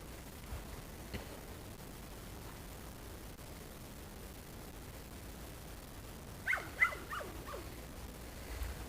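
Puppies whimper and yip in a quiet room, a few soft faint cries early on, then a brief louder cluster of high whines and small barks near the end over low background hiss.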